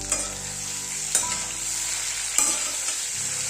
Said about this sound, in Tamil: இந்த மாதிரி லெமன் சேர்த்துட்டு லைட்டாக நம்ம வதக்கி விட்டுடலாம்